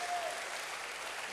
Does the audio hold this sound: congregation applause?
yes